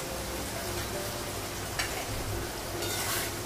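Ground turmeric, cumin and coriander powders frying in a pan, a steady dense sizzle with scraping stir strokes throughout, close and continuous with no voices.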